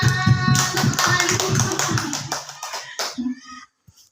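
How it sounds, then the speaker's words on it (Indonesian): Group of adults in a training session clapping together in a patterned rhythm among voices and music, the claps quick and clustered before fading to near silence at the end. "Pintar Ibu Bapak, tepuk tangan"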